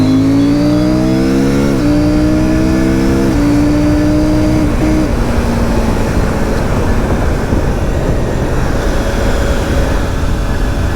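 A CFMOTO 800 MT Explore motorcycle engine pulls hard under acceleration, climbing through the gears with a loud, smooth rising drone and short dips at each upshift.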